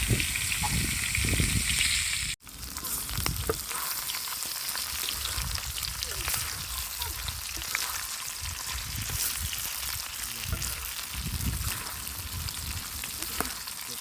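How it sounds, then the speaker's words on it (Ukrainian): Potatoes sizzle loudly in a frying pan made from a harrow disc, a dense crackling hiss right up close that starts with a sudden jump and keeps going without speech. "І додаємо картопельку. Ой, як зашкварчала гарно."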